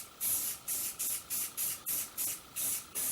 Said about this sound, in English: painting into the mouth, you are going to get overspray